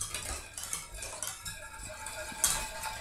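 A spoon stirring a homemade cream of coconut (Coco Lopez) mixture in a pot, with faint clinks and scrapes of metal against the pot in a quiet kitchen.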